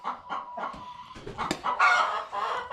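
Chickens on a Tennessee homestead where hens are laying eggs cluck and squawk close by in quick, overlapping bursts, with no talk.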